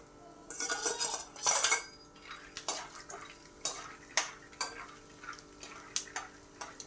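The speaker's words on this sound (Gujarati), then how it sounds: "સિંગદાણાને તળીને આપણે કાઢી લેવાના છે।" Peanuts fry in hot oil in a pan while being stirred, with frequent close clinks and scrapes of a spoon against the metal over a faint background sizzle, and no talk.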